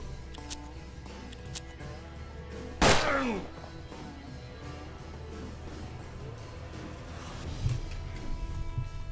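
A single sharp gunshot cracks out in the Western-themed tactical video game Hard West, loud and abrupt against a quiet, murmuring game ambience, followed by a faint thump later on.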